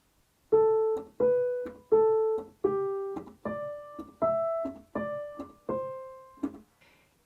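A piano plays a short beginner sight-reading passage of about ten separate notes with normal detached articulation, each note struck distinctly and decaying before the next, played alone with no talking.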